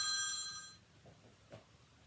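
A mobile phone rings with a bright tonal chime that stops under a second in, followed by quiet room noise and a faint knock.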